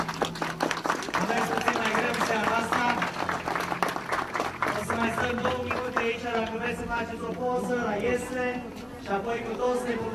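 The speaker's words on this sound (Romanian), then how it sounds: "Putem să aplaudăm pe cei care au jucat." An audience at a nativity play claps, a dense run of hand claps rising and then thinning out, with voices and chatter mixed in throughout.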